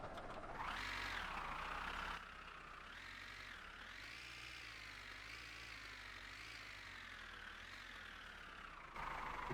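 Tractor engine in My Winter Car running steadily for several seconds, a low mechanical drone whose pitch wavers and rises as it speeds up, faint and continuous with no talk.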